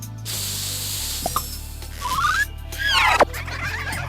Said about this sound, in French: vous recevrez aussi une barbe en canette. Un problème? Pulvérisez des poils dessus.